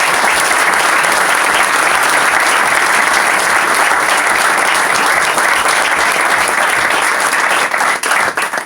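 A crowd at an Argentine political event marking 41 years since the Malvinas war breaks into loud, dense applause, a sustained roar of many hands clapping close up that holds steady before tapering at the very end.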